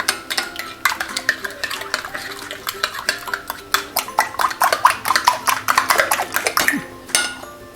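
Eggs and sugar for a sweet banana dish mixed briskly in a bowl, rapid rhythmic clinking strokes of a utensil against the sides, close and steady throughout.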